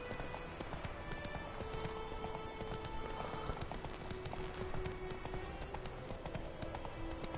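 Steady clip-clop of horse hooves at a riding pace in The Witcher 3, continuous and fairly quiet, with faint ambient game sound and little else.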